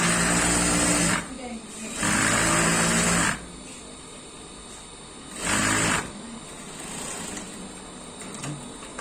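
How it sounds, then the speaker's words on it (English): A sewing machine stitching the seam of a short pencil skirt, running in loud close bursts of about two seconds separated by pauses, while someone talks. "then you sew gently with 1/4 inch or 1/2 inch"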